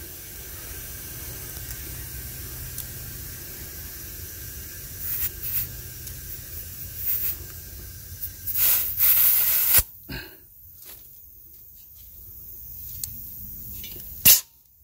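Steady faint hiss of air feeding into a tire on a junkyard Nissan 240SX (S13), holding low for several seconds before cutting off, then a few short sharp bursts and a closing pop.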